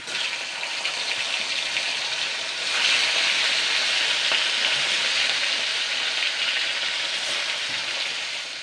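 Sea fish fry in hot oil, a loud steady sizzle that swells slightly midway and holds continuously throughout, close up with no voices.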